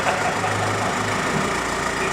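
A Golf GT TDI diesel with a straight-piped exhaust idles close by, a steady, rough, low rumble with a faint knocking texture and no talking over it.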